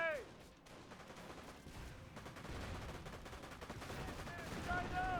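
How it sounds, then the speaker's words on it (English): Dense gunfire in the World War II strategy game Company of Heroes 1 rattles on for the whole stretch as a steady, overlapping battle din that grows slightly louder toward the end, with no talking. "Incoming gunfire!"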